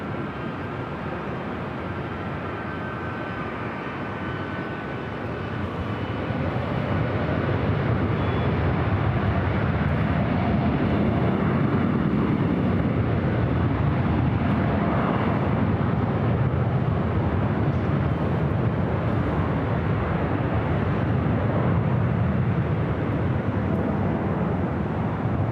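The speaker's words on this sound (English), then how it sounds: "We got that Cathay Pacific 777 up next for arrival on 24 right." A Cathay Pacific Boeing 777 arriving from Hong Kong at LAX gives a broad, rising jet roar that swells after a few seconds and holds loud and steady, with no one talking.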